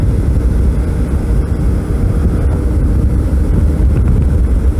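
Suzuki V-Strom 650 motorcycle cruising on a highway in fourth gear at about 70 km/h and 4000 RPM, with a steady engine drone and heavy wind and road rumble throughout, no talk.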